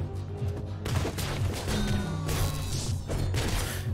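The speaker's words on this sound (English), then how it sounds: "he shot the ground" Rapid gunfire and impact thuds in the pixel-art action game Katana ZERO, a loud, busy burst of shots and crashes over game music, with no talking.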